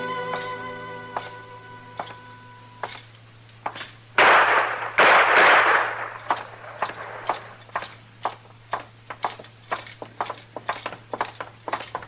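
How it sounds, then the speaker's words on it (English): Gunshots ring out in a saloon shootout from the Gunsmoke radio western, with a pair of loud, sharp blasts in the middle followed by an irregular run of crisp knocks and hoofbeat-like clops, with no voices. "Trimble come in, tried to shoot Cam Spiegel, and Cam killed him."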